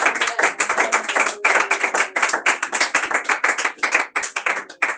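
Church congregation clapping in praise of Jesus, many hands beating loud, rhythmic bursts close by, with brief gaps between rapid runs of claps.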